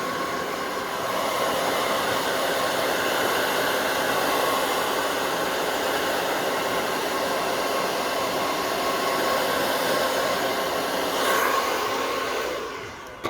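A hair dryer blow-drying a girl's hair, a steady loud whooshing roar that runs the whole time and dips slightly as it is moved near the end, with no speech.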